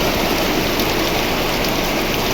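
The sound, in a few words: heavy driving rain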